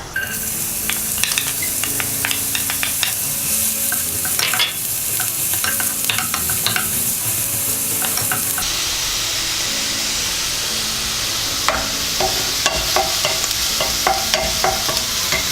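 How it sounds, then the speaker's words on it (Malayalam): Chopped onions dropped into hot oil for a bottle gourd dal sizzle loudly and steadily, with scattered clicks and scrapes of stirring throughout and a brighter hiss in the second half. "നമുക്ക് ഇതിലേക്ക് അരിഞ്ഞ് വെച്ചിരിക്കുന്ന സവോള ഇട്ട് കൊടുക്കാം"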